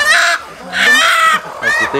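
Laying hens cluck and squawk in three loud bursts at close range during weighing, with brief gaps between calls.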